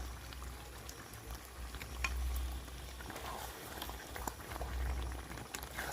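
Chicken chaap fries in ghee with garam masala paste, giving a soft, steady bubbling sizzle with light pattering pops throughout, fairly quiet and close.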